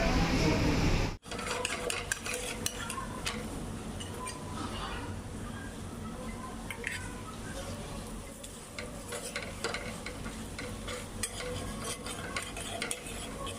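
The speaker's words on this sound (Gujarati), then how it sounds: "પછી આપણે હવે એને દબાવી અને પકાવી લઈએ" A cheese paratha pressed and cooked in a pan, with continuous sizzling mixed with clattering of utensils and scraping, close and fairly loud after a brief sharp cut near the start.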